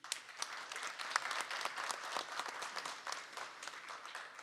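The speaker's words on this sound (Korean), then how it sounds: "거듭 감사드리며 다시 한번 큰 박수 부탁드립니다." Audience applause fills a hall after a request for a big round of clapping at a Korean ICT industry digital-policy event, a steady dense crowd clapping at moderate level with no talking.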